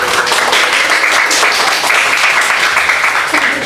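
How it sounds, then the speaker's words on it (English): Sustained applause from a crowd at a civil wedding ceremony, steady and dense clapping filling the whole stretch without a pause. "Let's all give them a round of"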